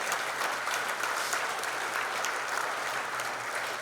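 An audience at a Hall of Fame ceremony gives a steady, dense round of applause that fills the room, many hands clapping at once at an even level with no talking over it.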